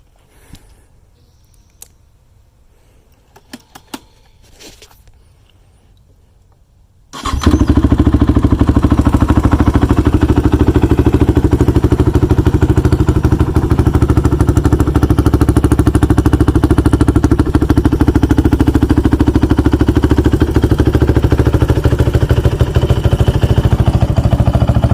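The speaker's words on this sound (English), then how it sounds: "So here's the first cold start for you." A Honda TRX450 quad ATV that sat cold firing up after quiet handling noises, then settling into a loud, steady, close-up idle that continues unbroken to the end.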